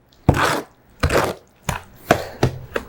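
A mortar hoe pushes a very dry historic mortar mix back and forth by hand, five separate gritty scraping strokes, each a rough swish about half a second long with short gaps between.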